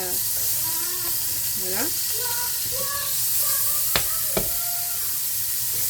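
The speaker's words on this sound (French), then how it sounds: "Je fais fondre du beurre" Butter melting in a pan for a croque madame, giving a steady soft sizzle and hiss throughout, with a couple of sharp clicks near the end and a voice speaking briefly over it.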